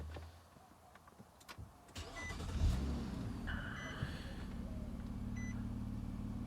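A car engine cranks and catches with a short loud burst, then settles into a steady, low, close idle hum with faint electronic chirps above it.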